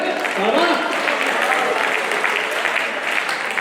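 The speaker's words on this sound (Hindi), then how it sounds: "तालियां हो रहे" Steady audience applause fills a comedy poetry show (hasya kavi sammelan), a dense, continuous wash of many hands clapping close by, holding even throughout with a faint voice briefly audible near the start.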